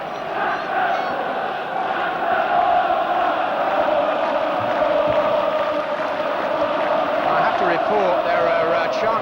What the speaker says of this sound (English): Coming from the Newcastle sections of the crowd, aimed against the board of directors and possibly the manager.